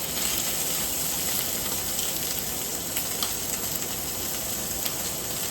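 Meat searing in a hot pan over direct heat, browning as it cooks: a steady, dense sizzle that holds at an even level the whole time, close and fairly loud, with small pops rising out of it.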